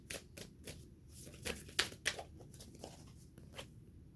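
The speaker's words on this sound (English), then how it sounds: "I'm going to shuffle 2 more times." Tarot cards are shuffled up close, a quiet series of soft riffling and slapping bursts at an irregular rhythm, with no voice over them.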